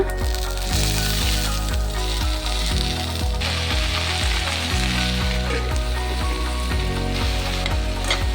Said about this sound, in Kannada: ಹುಣಸೆಹಣ್ಣು ಚೆನ್ನಾಗಿ ಹುರ್ಕೊಳ್ಳೋಣ.